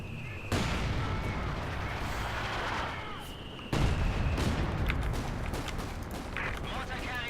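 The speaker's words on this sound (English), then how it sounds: "There's going to be quite a few howitzer shells being dropped in for rocket." Howitzer shells crash down in the Company of Heroes 2 video game, two heavy booming impacts with rumbling aftermath and scattered gunfire, while a voice talks over the battle.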